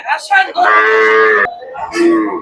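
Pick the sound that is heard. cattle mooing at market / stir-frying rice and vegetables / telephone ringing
cattle mooing at market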